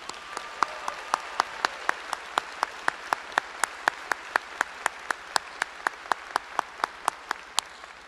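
A graduation ceremony crowd keeps applauding for the class of 2020, with dense hall-wide clapping and a few loud, regular nearby claps punctuating it throughout.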